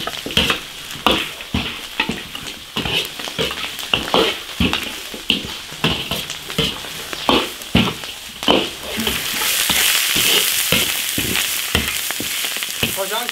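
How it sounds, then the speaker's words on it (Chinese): Pork is stir-fried in a hot wok, a steady sizzle broken by rhythmic scraping and tossing strokes, close and loud, with the frying growing more intense toward the end. "下猪肉，哎呀，好辣！ 猪肉再翻炒2分钟。"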